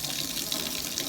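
The last of the antifreeze runs from the sink tap on a 2016 Chaparral 336 boat in a steady, close, even gush of liquid.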